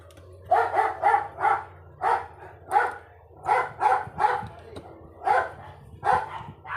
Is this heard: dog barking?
yes